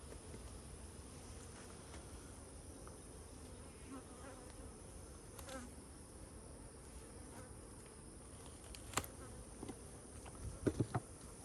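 Honey bees buzz steadily around an open hive during smoking, a dense continuous hum with a few brief knocks near the end.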